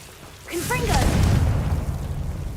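A Confringo blasting spell explodes in Hogwarts Legacy, a sudden burst with a fizzing, whistling flare followed by a loud, sustained low rumbling boom that lingers for about two seconds.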